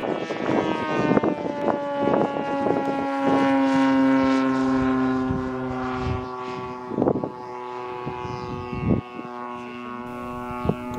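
A DLE40cc twin gas engine on an Extra 300 model airplane, fitted with a silencer, drones steadily at high revs, a buzzy, fairly loud hum with a muffled, lowered tone, pitch shifting slightly as the throttle changes.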